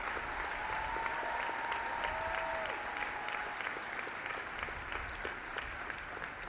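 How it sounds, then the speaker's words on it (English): Sustained crowd applause fills a graduation ceremony hall at the University of Trinidad and Tobago, a steady dense wash of clapping throughout with a faint tonal whistle briefly rising above it. "I want to ask you to fill this atmosphere with an applause that they could hear from very far from here."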